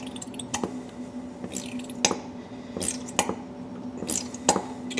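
Honey and brown sugar glaze being stirred in a container for an eye of round, soft sticky squishes with sharp spoon clinks against the side at a slow, irregular rhythm, close and fairly quiet.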